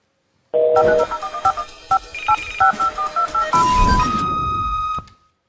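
Answering machine playback tones sound as a loud, clear run of electronic beeps and tone pairs in quick succession, ending in a brighter burst and a long steady tone, with no voices.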